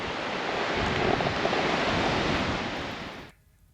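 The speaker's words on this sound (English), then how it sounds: "So here is a typical looking Aussie beach, not many people on it today" Wind and surf on a nearly empty Australian beach on a calm-surf day make a loud, steady wash of broadband noise with heavy wind buffeting, close, then cutting off abruptly near the end.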